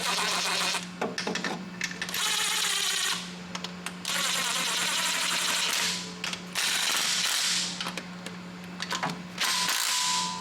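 A ratchet wrench clicks steadily while installing a starter on an LS engine during a transmission swap, with close, loud bursts of rapid pawl clicking separated by brief pauses and a low steady hum underneath.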